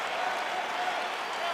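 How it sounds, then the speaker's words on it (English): An arena crowd in the UFC 4 fighting video game cheers and applauds as a bout begins, a broad, steady roar of clapping and excitement at moderate distance, with a commentator's voice running over it. "Crowd getting excited as this fight gets underway"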